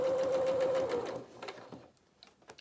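A sewing machine stitches fabric for a small bunny treat bag, running steadily with a fast mechanical hum for about a second, then slowing to a few last stitches and stopping, close and clear with no talking.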